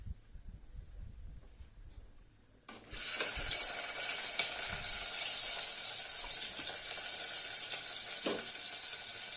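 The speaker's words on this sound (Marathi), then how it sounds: "आता तेल तापलं का ह्याच्यात कांदा परतूया." Onion is dropped into hot oil for a village-style handi mutton and starts frying with a sudden loud, steady hiss and crackle that carries on close up after a quieter start.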